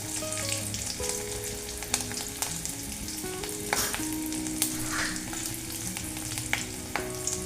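Cumin seeds sizzle in hot oil, a dense continuous crackling fry with sharp pops and occasional stirring clicks, close and fairly loud, no talking.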